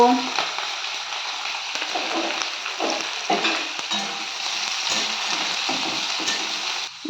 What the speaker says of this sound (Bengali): ঘি আর তেলটা গরম হয়ে গেছে এবার আমি বিনসগুলো ভেজে নেব গাজরগুলোও দিয়ে দেব